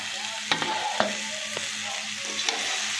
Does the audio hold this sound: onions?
yes